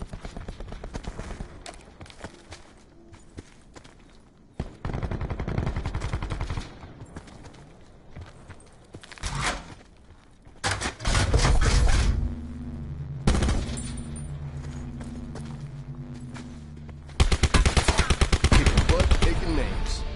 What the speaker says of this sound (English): Shooting at him somewhere.